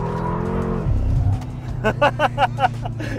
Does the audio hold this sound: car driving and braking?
yes